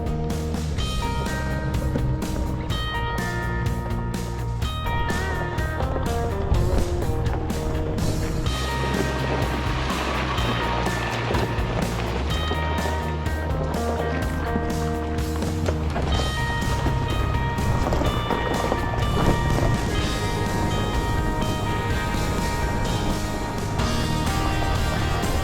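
An overlanding vehicle driving fast on a gravel desert road in Kofa, Arizona, producing a loud, continuous roar of tire crunch, engine and wind noise that fills the whole stretch without letup.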